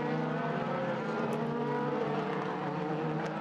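DTM race cars at the Lausitzring in 2015 roar through turn one during an overtake, a loud sustained engine drone that holds steady throughout with no voices.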